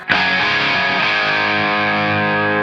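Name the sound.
guitar amp with reverb effect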